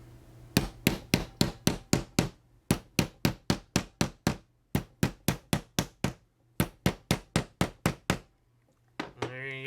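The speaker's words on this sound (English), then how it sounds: "I'll punch the holes right up and then we'll set the rest of the rivets" Rivets being hammered into a simple leather sheath for a Plumb hatchet, heard as close, sharp hammer strikes in quick rhythmic bursts of about six to eight blows, separated by short pauses.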